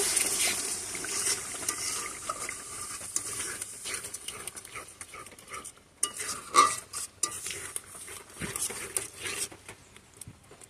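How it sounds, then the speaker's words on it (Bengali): A spoon stirs and mixes spice masala with beaten sour yogurt for a potol dish, soft, quiet scraping and squelching strokes coming in uneven bursts. "এখন আমি উপকরণগুলো ভালো করে মিশিয়ে দিব।"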